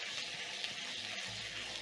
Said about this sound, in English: I'm going to be frying until the onions are golden brown